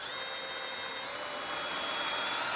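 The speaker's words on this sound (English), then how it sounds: "I'm just going to drill a pilot hole" A drill boring a pilot hole for a rear anti-sway bar bracket on a 2020 Jayco Melbourne motorhome, heard as a steady high whine that runs close up without a break.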